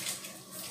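Tap water running steadily while salad is rinsed at a sink, a brief, even hiss of flowing water that stays close and fairly quiet.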